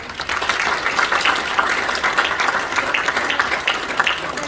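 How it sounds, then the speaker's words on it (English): A large gathering at a community iftar dinner applauds steadily, with many hands producing a full, continuous wash of clapping at a loud level throughout and no speech over it. "So a final round of applause to all of them."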